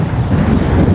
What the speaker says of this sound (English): Wow, it is windy.